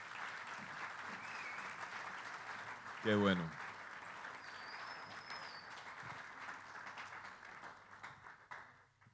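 An audience applauds the volunteers at a church youth event, a steady broad wash of clapping that fills the whole stretch and slowly tapers off, with a brief spoken exclamation heard over it.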